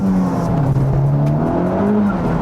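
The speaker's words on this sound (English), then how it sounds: "let's unstrap this car from the dyno and go for a little ride" A Honda Civic Type R tuned with Hondata drives hard, its engine note loud and steady throughout with tires squealing over the revving motor.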